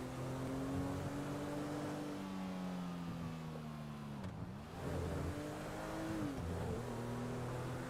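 A car engine in GTA Online driving along at steady speed, a sustained droning hum with pitch dipping and rising as it slows and picks up again, fairly close and even in level.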